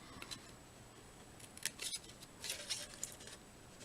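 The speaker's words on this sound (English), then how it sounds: "These are great scissors, by the way, for these sort of intricate cuts like this." Small scissors make fussy, intricate cuts in paper for a handmade card, giving faint, quick snips in short irregular bursts against quiet background hiss.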